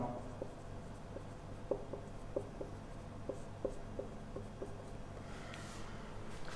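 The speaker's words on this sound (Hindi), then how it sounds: "सबसे पहले यहाँ पे अगर मैं मैकेनिज्म लिखता हूँ," Marker or chalk writing a chemical reaction mechanism on a board, faint irregular taps and short strokes against a quiet room hum, with no talking.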